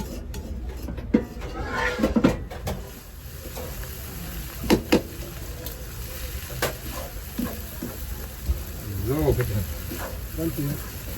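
Noodles are stir-fried at a street food stall: a steady sizzle under scraping and clanking of a metal utensil against the pan, with a few sharp knocks, near and fairly loud, while people talk intermittently.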